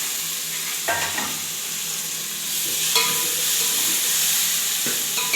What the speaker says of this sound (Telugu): పసుపు వేసుకున్న తర్వాత మనం ముందుగానే తరిగించుకున్న టమాటాలు వేసుకోవాలి అప్పుడు చూయి అని చాలా చప్పుడు వస్తుంది